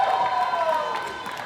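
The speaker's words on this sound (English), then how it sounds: "A big round of applause for" An arena crowd at a powerlifting championship medal ceremony claps and cheers for a medal winner while an announcer's amplified voice carries over it, the noise gradually fading.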